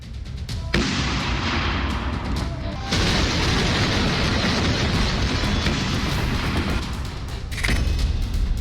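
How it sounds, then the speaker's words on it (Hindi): Bombing of Hamas targets in Gaza produces heavy explosions and a dense, roaring rumble that continues in loud waves, broken by brief lulls and renewed bursts. No voices are heard. "हमास के आतंकी ठिकानों पर बमबारी।"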